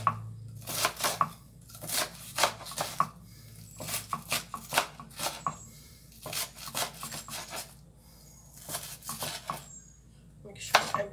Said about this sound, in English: Now we're taking this and we're cutting it into finer pieces.